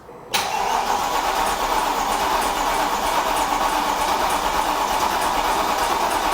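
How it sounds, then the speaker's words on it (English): Mercedes W204 C63 engine being cranked over on the bench during a rebuild, a loud continuous mechanical whirring drone that kicks in abruptly and holds steady for several seconds, with no talking. "We're going to give it a good crank, and then we'll finish plugging in the rest of the wiring loom, see if it starts."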